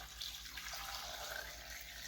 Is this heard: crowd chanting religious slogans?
no